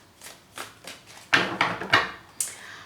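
A deck of tarot cards is shuffled by hand in a quick run of crisp riffling bursts, close and fairly loud, with short pauses between the bursts and no talking.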